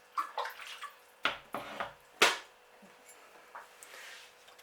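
Tepid water poured and splashing in short uneven bursts over a potted tarantula enclosure, close by, with a louder gush in the middle and quieter trickles afterward.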